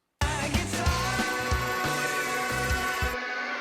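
Heavily processed electric guitar plays a dense, rhythmic riff with a thick, saturated tone, cutting off abruptly near the end.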